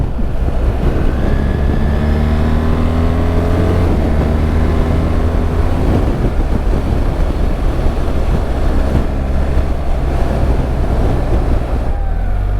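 A BMW R 1300 GS motorcycle rides at speed with a steady engine drone rising and falling through gears, heavily mixed with loud wind roar across the microphone, continuous throughout.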